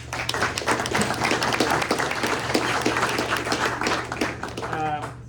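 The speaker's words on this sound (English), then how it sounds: "Let's give them a round of applause." An audience at a press luncheon breaks into dense, steady applause for several seconds, with a voice starting to speak as the clapping fades.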